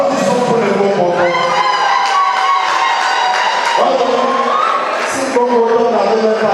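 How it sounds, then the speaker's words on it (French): A crowd at a gala evening held by a Yaoundé association cheers loudly and steadily, voices raised together in a sustained, festive roar with a brief dip near the end before swelling again. "Applaudissons pour les bons moments"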